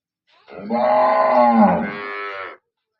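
A slightly thin cow in her second lactation lets out a single long, strong moo at close range. It lasts about two seconds before stopping abruptly, with no talk around it.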